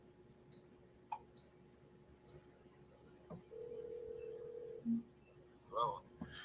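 Office or studio telephone ringing during an interview with a finance professor, with faint tonal rings and clicks scattered through the short stretch beneath a steady hum and murmured talk.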